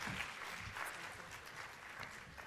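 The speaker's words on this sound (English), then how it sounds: "A big round of applause, ladies and gentlemen." Soft, distant applause ripples through the hall at a university health-sciences research conclave, a steady wash of clapping with no voices over it.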